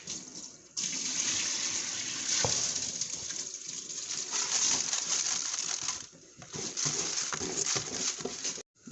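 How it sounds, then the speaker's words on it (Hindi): Water heating toward a boil in a pot for white chana pulao keeps up a steady, fairly loud bubbling and rushing wash that runs almost unbroken, dipping briefly twice, with no voices. "जो हमने पानी शामिल किया था उसको उबाल आना शुरू हो चुका है"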